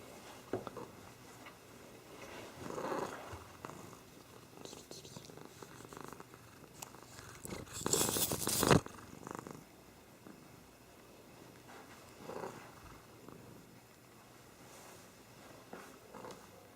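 A cat purring softly and steadily at close range, a low continuous rumble, with one louder broadband burst of handling noise partway through; no one talks.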